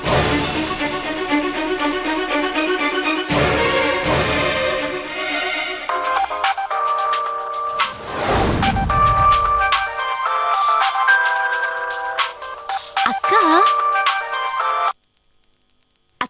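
A phone ringtone plays a repeating electronic melody, loud and close, continuing for several seconds before cutting off abruptly.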